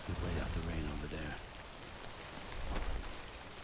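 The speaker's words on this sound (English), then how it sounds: "Wait out the rain over there." Rain falling in the video game Death Stranding, a steady hiss of pouring rain with a brief low rumble, partly under a voice talking at the start.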